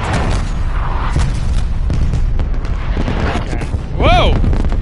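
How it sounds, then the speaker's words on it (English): Incoming artillery strikes in a video game land as a loud continuous rumble of booms and blasts, with a sharp whistling tone near the end; no talking. "Hostile artillery targeting active."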